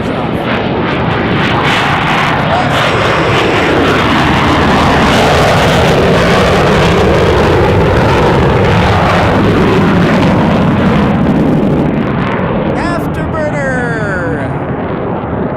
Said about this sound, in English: early enough in the morning you can see those afterburners